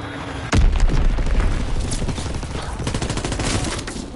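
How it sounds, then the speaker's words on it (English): Dense gunfire rattles through a Call of Duty WWII firefight, opening with a heavy boom and continuing as rapid, overlapping bursts and volleys that stay loud and close throughout. "I don't know who's shooting."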